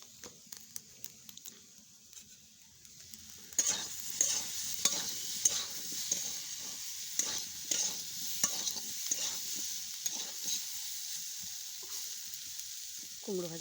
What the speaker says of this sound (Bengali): কুমড়ো ভাজাটা হয়ে এসছে, এবার নামিয়ে নেব